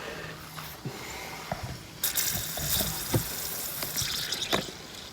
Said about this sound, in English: Now, I don't know if you can see the water flowing there.